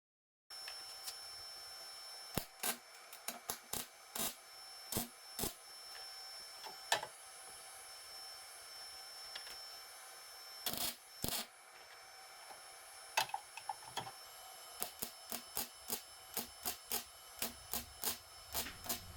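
Tack welding a new sheet-metal patch into a rusted 1986 Pontiac fender, with short sharp bursts spaced irregularly, sometimes in quick runs, close and fairly quiet against a steady low background hum.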